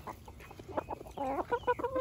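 Chickens cluck in a quick series of short, choppy calls close to the microphone, with other farm birds nearby and a faint background hiss.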